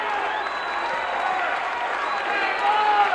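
Wrestling crowd at a Butch Reed vs Tito Santana match reacting against Reed: a dense, continuous roar of arena voices and clapping throughout, with a commentator talking over it.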